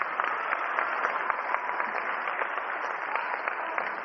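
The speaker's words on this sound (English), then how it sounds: "Give these two ladies a round of applause" Audience applause at a 1988 martial arts tournament, a steady, dense patter of many clapping hands held at an even level for the whole stretch, slightly distant and band-limited.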